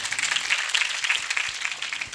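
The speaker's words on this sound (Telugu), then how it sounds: "కొట్టండి చప్పట్లు గట్టిగా" A church congregation applauds throughout, a steady dense patter of many hands clapping at moderate loudness, with no clear speech.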